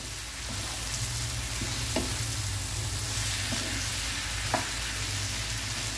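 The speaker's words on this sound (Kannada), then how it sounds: "ಸ್ವಲ್ಪ ಇದನ್ನು 1-2 ನಿಮಿಷ ನಾವು ಫ್ರೈ ಮಾಡುವ" Mushrooms frying in butter and oil for a mushroom tikka masala, a steady close sizzle with occasional stirring clicks from the pan and no voices.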